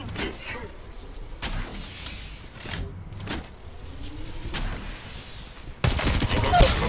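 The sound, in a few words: gunfire from enemy team in Apex Legends Mobile video game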